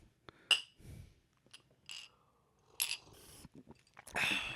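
Glasses clink in a holiday toast as a few sharp, bright chinks ring out at spaced moments amid quiet handling noises, with near-silence between them.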